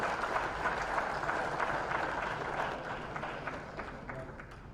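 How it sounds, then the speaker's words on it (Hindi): Audience applause at an investment summit event in Rajasthan, a dense, steady wash of clapping from a large crowd, moderately loud and fading slightly toward the end. "जोरदार तालियां इनके लिए हो जाएं।"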